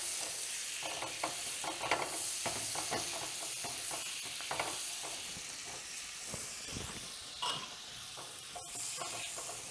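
Butter and olive oil sizzling in a pan over lowered heat before eggs go in for an Italian-style omelette, a soft continuous hiss broken by frequent crackling pops and a few scraping clicks.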